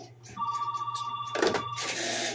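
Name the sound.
telephone ringing through home-built telephone switches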